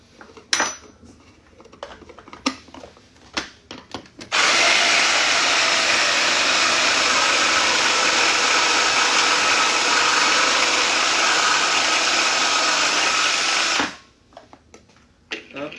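A food mixer whirs loudly and steadily for about nine seconds, blending dried-fruit energy ball mixture with water, framed by light clinks and handling noises before and after.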